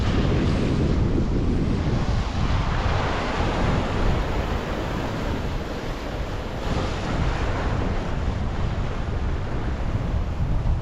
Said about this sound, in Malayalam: ഈ പാറകളിലൊക്കെ തിരമാലകൾ മത്സരിച്ച് വന്നാണ് സാറ്റ് കളിക്കുന്നത്